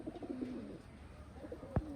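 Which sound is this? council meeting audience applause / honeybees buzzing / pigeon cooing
pigeon cooing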